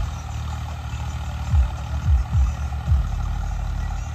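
A low, steady rumble from a turbo tractor ploughing a field at night for potato planting, broken by three or four short throaty bursts as the load swells.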